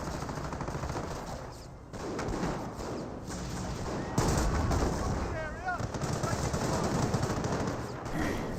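Machine gun fire in the WWII strategy game Company of Heroes, sustained rattling bursts mixed with battle thuds and distant blasts, steady throughout with a commentator talking over it.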